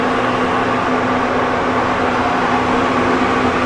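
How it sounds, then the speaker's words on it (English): A loud drying fan drones on steadily inside a columbarium, a broad whooshing roar with a faint steady hum beneath it, unchanging throughout. "And that noise you're hearing is actually a drying fan."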